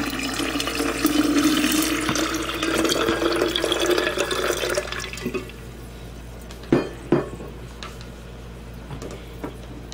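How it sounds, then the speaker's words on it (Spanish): Six cups of water pour steadily into a jug of ice for walnut agua fresca, a close, gurgling splash for about five seconds, followed by a few sharp clinks of ice against the container. "en una jarra con hielos vamos a agregar las 6 tazas de agua"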